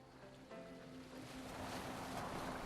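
A boat sails across open sea in Assassin's Creed Valhalla, with waves washing against the hull and wind rushing steadily, the water growing louder toward the end.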